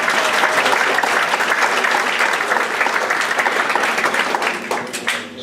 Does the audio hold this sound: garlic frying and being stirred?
no